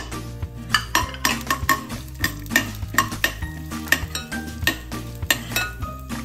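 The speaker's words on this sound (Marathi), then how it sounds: "या डाळी थोड्या थोड्या भाजायला लागलेल्या आहेत" Lentils (dal) dry-roast in a pan while a spoon stirs them, giving repeated close scraping clinks against the metal in a steady irregular rhythm over a faint sizzle, no voices.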